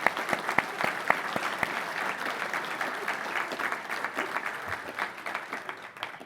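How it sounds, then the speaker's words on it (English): Applause from a banquet audience honoring professional staff at an awards event, steady dense clapping sustained throughout with a few sharper claps near the start, fairly distant and filling the room. "please join me in a round of applause for them"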